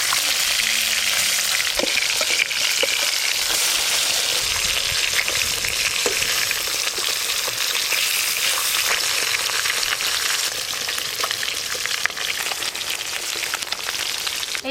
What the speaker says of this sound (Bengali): এই মাছগুলোও ভালো করে ভাজা হয়ে গেল।